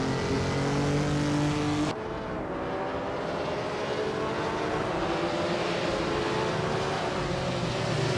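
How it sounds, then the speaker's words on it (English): A 1959 Maserati Tipo 61 Birdcage race car in a racing video game holds a loud, steady engine drone with harmonic whine, shifting pitch sharply near two seconds as if changing gear, then roaring on continuously. "T-Bohm is driving a 1959 Maserati Tipo 6061 birdcage"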